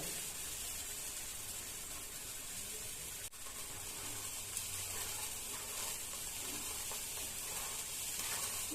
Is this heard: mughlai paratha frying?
yes